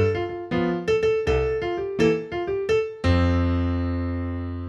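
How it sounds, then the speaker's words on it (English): A solo piano plays a sparse arrangement: right-hand melody notes over left-hand bass notes and shell chords, short phrases of distinct plucked tones ending on a sustained, slowly decaying chord. "that's the bare bones, right hand melody, left hand bass notes, and shells that I just talked about"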